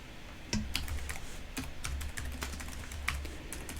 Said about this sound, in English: So while you are typing